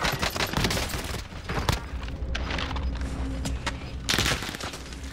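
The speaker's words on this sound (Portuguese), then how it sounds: "sempre alguém me dando tiro pelas costas." Gunfire in Call of Duty: Warzone gameplay: bursts of shots crackle close by, with a heavy volley at the start and more shots later, over a busy game background.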